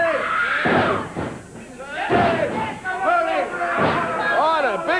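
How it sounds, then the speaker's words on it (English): Heavy body slams and thuds as a big wrestler jumps repeatedly on Jerry Lawler at a 1993 USWA wrestling event, dull impacts falling every second or so under excited commentary and a noisy, shouting crowd. "the big guy continues jumping on Jerry Lawler"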